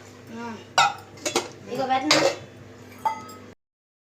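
Dishes and metal vessels clatter in a home kitchen, several sharp clinks and knocks in uneven bursts, close and fairly loud, ending abruptly.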